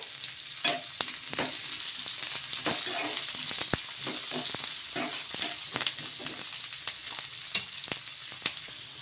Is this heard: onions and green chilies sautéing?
yes